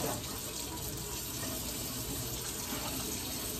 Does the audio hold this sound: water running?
yes